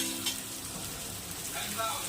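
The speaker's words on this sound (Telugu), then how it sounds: "సొరకాయ ముక్కలు వేసుకున్నాం." Bottle gourd pieces frying in a pan for a green chilli curry: a brief, steady, close sizzle with faint stirring underneath.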